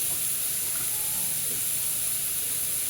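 Chilli paste added to cabbage curry frying in a pan, giving a steady close hiss of sizzling oil with faint stirring underneath.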